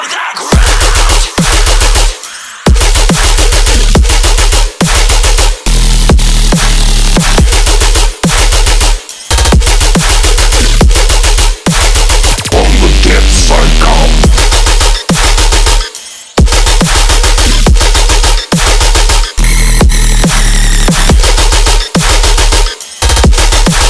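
A tearout dubstep drop blasts at full volume with heavy distorted bass growls, pounding kicks and snares, and abrupt rhythmic cuts and gaps throughout, dense and aggressive with no voice.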